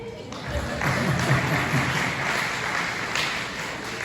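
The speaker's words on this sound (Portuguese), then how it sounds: "Gente, aplauda, eu nunca ganhei." An audience at a family seminar in a church setting breaks into applause, a dense wash of clapping that swells quickly and holds steady, with faint voices mixed in.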